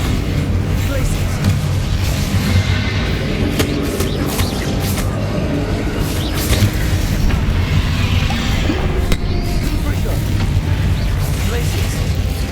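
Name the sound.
Bombarda and Confringo spell explosions in the video game Hogwarts Legacy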